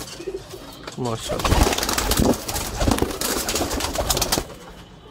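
Pigeons of the 79 breed coo in soft repeated phrases close by, with someone speaking over them through much of the stretch.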